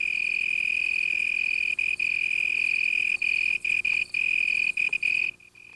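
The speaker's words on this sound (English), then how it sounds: "The leaf is the cricket's soundboard, and the sound produced is magnified in intensity as much as 3 times" Cricket singing from a leaf that acts as a soundboard in the African night, a loud, continuous high-pitched trill with brief gaps near the end before it stops.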